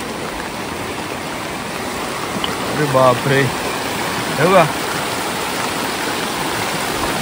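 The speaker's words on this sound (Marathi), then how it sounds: "तर आता आलोय नदीच्या इथे. ती नद पूर्ण भरली आहे" A flooded, muddy river in the Konkan region runs full during heavy rain, making a steady, loud broadband rush throughout. A man briefly exclaims over the roar.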